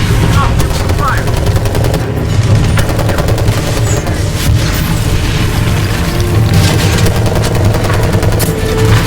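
Heavy gunfire in the World War 3 military shooter video game: dense, continuous bursts of automatic fire mixed with deep booms, loud and unbroken for the whole stretch.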